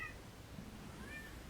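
A pet cat gives two short, faint meows, one at the very start and another about a second later, quiet and somewhat distant over a low background hum.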